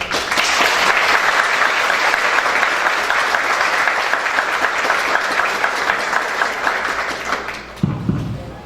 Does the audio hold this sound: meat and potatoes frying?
no